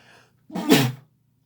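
A single sharp human sneeze in a quiet room, close and loud, bursting out after a brief soft breath and ending abruptly in silence.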